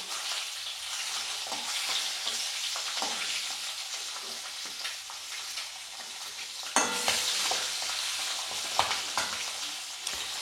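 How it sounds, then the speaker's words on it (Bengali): Potatoes frying in hot oil: a strong, continuous sizzle and crackle close by, with occasional scrapes and a louder burst partway through as they are stirred, no one talking. "এই একইভাবে আলুটাকেও আমি ভেজে তুলে রেখে দেবো।"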